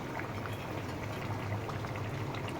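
Warm water goes into chicken cooking in a pot with whole green chillies, giving a close, continuous bubbling and pouring burble with no speech.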